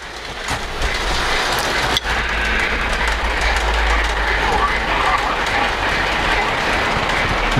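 A Polar Express model freight train runs along the lower level of a layout, a steady close rumble with a soft clicking of wheels and a single sharp knock near the start.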